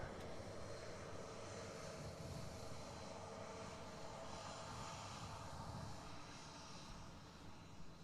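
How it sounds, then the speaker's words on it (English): An EasyJet Airbus A320 jet airliner takes off from Manchester Airport for Tenerife with a loud, steady engine roar that holds for the whole stretch and fades only slightly at the end. No one speaks. "there we have another EasyJet Airbus A320 headed off to Tenerife"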